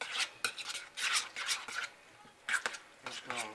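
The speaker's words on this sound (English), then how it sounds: "Just gonna mix this through and through a little bit." Salmon patty mixture is stirred and mashed in a bowl, producing close, wet scraping and squelching strokes in uneven bursts with brief pauses between them.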